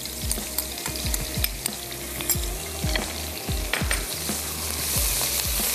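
Garlic, ginger and onion fry in a pan with a loud, close, continuous sizzle, with repeated clinks and scrapes of a spoon stirring through it.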